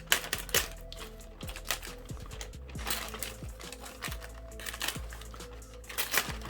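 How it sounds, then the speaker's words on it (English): Knife slicing open the plastic bag of a Cylon Raider model kit, a close, quiet run of crinkling, ticking and scraping sounds with small irregular clicks. "let's get the old knife out and cut this open."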